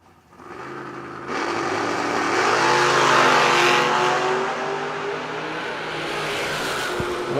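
A Camaro and an S10 launch side by side at a drag strip, the engines' loud roar swelling to a sustained, harsh high-revving blast that fades slightly as the cars pull away.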